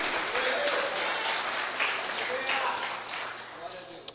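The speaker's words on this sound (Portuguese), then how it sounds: "aplauda, dê glória" Congregation applauding during an evening church service, a steady broadband wash of clapping with scattered voices and cheers mixed in, ending on one sharp louder clap.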